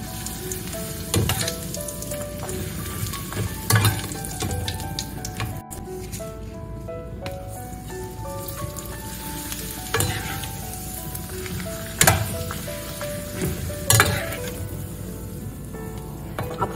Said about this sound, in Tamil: ஃபர்ஸ்ட் நம்ம அப்பளம் வறுத்துக்கலாம்.